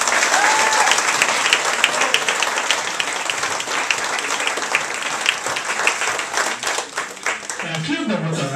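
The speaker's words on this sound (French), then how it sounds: "On s'applaudit." Sustained applause from a crowd at a snowmobile club's 50th anniversary gathering in Ste-Agathe, loud and dense clapping that carries on for several seconds before thinning toward the end.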